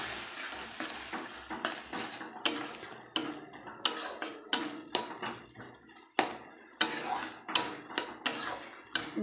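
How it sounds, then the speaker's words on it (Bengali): A utensil scrapes and knocks against a pan as rice-flour paste is stirred with water, giving a steady rhythm of clanks and scrapes, close and fairly loud. "দিয়ে এভাবে জল দিয়ে নাড়তে থাকবে।"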